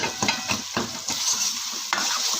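Potato, fenugreek, carrot and peas being stir-fried in roasted masala with tomato, giving a steady close sizzle broken by repeated scraping stirs of a spatula against the pan.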